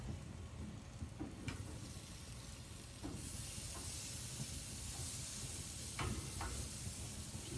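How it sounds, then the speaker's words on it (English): Ribs sizzling on a hot barbecue grill, a steady close hiss that swells louder after a few seconds, with occasional faint crackles and pops over a low background rumble. "You hear the sizzling."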